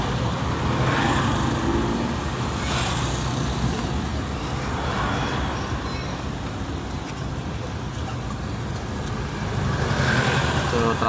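Road traffic backed up at a checkpoint in Davao City, heard as a steady, loud, unbroken rumble of engines and tyres with no clear pauses.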